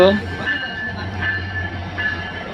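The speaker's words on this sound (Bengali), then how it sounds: "এই দেখতে পাচ্ছেন ট্রেনটি ঢুকে গেছে" The Madhumati Express pulls into a railway station, a low rumbling hum with faint metallic squeals drifting in and out, while voices of people on the platform are heard over it.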